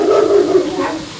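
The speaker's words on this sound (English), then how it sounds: "That dog is fucking huge!" A very large dog barks in a deep, full voice, one loud, close, sustained woof-like bark lasting about a second.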